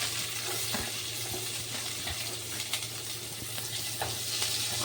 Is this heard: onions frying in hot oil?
yes